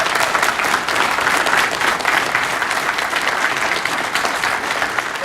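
Steady, dense applause from an audience at a flight simulation event, loud and continuous for the whole stretch with no talk over it.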